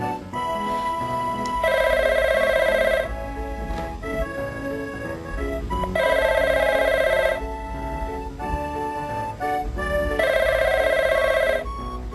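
A telephone rings loudly in repeated bursts, three long electronic trills separated by pauses, heard alone over a faint room background.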